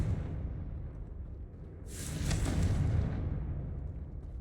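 A Confringo blasting spell explodes in the Hogwarts Legacy video game, a single loud burst with a bright whooshing crack that swells and then decays over a low rumbling background.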